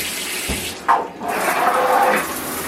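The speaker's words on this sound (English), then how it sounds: "That's your waterfall shower." Water pouring from a waterfall shower head, a sudden close rush that starts after a brief click and then runs steadily and loudly.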